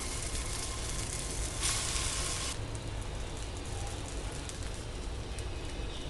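Moong dal and vegetable batter sizzles steadily in the cavities of an oiled appam tray, a continuous close hiss that swells briefly partway through, with no talking.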